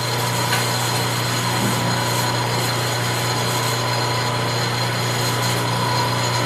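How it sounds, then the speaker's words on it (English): A milling machine running at its slowest speed of 80 RPM cuts a part during a headless guitar repair, producing a steady, loud mechanical drone with a constant hum and faint grinding, continuous and close with no speech. "I've got the speed set at the slowest speed that the mill will do, which is at 80 RPM."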